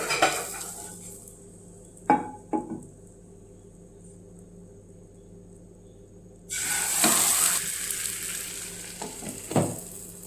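A Spanish-style omelette being flipped with a plate and lid: a few sharp clinks of dishware, then a loud burst of sizzling frying as it lands back in the pan, followed by more clatter.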